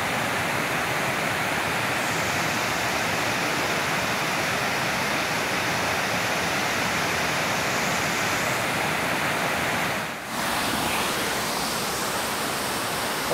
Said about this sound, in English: Nice small waterfalls along the whole way, babbling brooks.